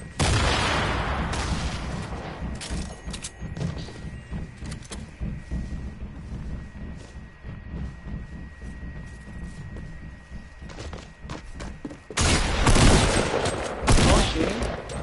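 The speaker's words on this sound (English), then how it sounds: "Oh, shooting?" Rapid gunfire in a shooter video game, bursts of automatic shots and cracks over a rumbling bed, heavy at the start and again near the end, with quieter stretches between.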